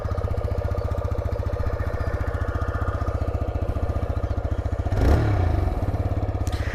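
A TVS Raider 125 motorcycle engine runs steadily at idle with a rapid, even thumping pulse, close and loud, rising briefly in a short rev near the end.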